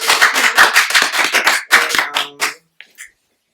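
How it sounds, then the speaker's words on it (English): A small group claps hands in congratulation, a burst of quick, sharp, close claps that thins out and stops, followed by a couple of faint stray taps. "Congratulations. Clap it up."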